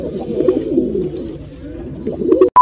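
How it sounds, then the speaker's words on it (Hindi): Close, low cooing from a male pigeon, a soft rolling burble that rises and falls, ending with a sharp click. "ये कबूतर गुटर रहा है।"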